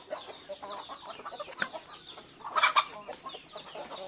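Pet chickens clucking at feeding time, with a cluster of soft close clucks and calls and a louder burst of squawking near the middle, over faint rustling in the background.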